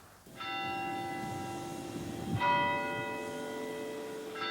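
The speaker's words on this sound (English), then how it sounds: "The bell tolls today" A church bell tolls twice, each deep strike humming and slowly fading under a faint background hiss.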